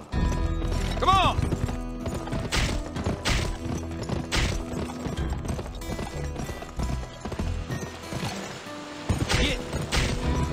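A horse gallops in the video game Gun, with loud rhythmic hoofbeats over music and game sounds, a brief whinny early on, and a voice at times.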